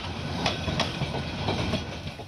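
A train pulls out of Kamalapur railway station in Dhaka, its steady rumble and faint rhythmic wheel clatter carrying on without pause and with no voices.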